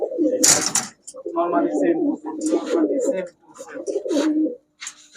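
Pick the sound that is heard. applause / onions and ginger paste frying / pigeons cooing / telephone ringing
pigeons cooing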